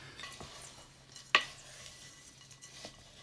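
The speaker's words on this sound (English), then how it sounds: "So I'm gonna stir that." Soft scraping of a spoon stirring homemade granola mix with cloves, nutmeg and cinnamon in a bowl, one sharper clink midway, quiet and close.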